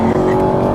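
A Ford muscle car roars hard through a tight corner, a loud, sustained, close engine drone with no gap over a brief moment.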